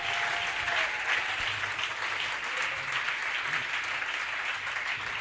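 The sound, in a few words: congregation applauding in praise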